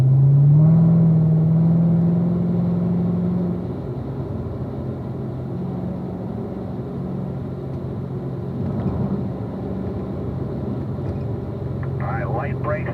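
A car laps the Ron Fellows racetrack, braking lightly into turn 6, its engine droning steadily at close range with a brief rising whine at the start, while a person speaks over it throughout.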